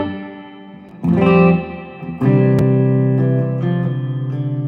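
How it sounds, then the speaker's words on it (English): Electric guitar chords drenched in heavy reverb, strummed twice and left ringing in a long, washy, slightly buzzy sustain that slowly decays, loud and alone without talk. "It's a lot of reverb"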